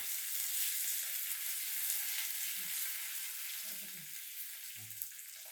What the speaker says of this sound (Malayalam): വെളിച്ചെണ്ണ ചൂടായതിനു ശേഷം ഒരു ടീസ്പൂൺ ഉലുവ ഒന്നര ടീസ്പൂൺ കടുക് നാല് വറ്റൽ മുളക് രണ്ട് തണ്ട് കറിവേപ്പില കൂടി ചേർത്ത് മൂപ്പിച്ചെടുക്കണം